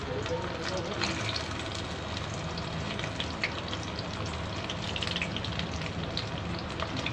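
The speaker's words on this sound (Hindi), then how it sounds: "तेल गरम हो गया है, करेले को फ्राई करना है।" Bitter gourd (karela) frying in hot oil in a pan, a steady dense sizzle and crackle that runs evenly through the whole stretch, fairly close with no pauses.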